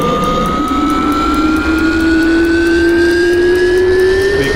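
A Carenado C208 Caravan turboprop idles at low idle in X-Plane 11, giving a steady, loud hum with a sustained tone that climbs slowly. It runs alone and continuously, with no voices.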